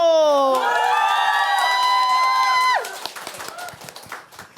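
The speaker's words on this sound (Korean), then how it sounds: "여러분의 환호 소리 한번 들어볼까요? 여러분 소리 질러!" A crowd at a book concert cheers and shouts, starting with a loud, sustained chorus of voices and whoops that cuts off sharply, leaving scattered claps and calls fading away.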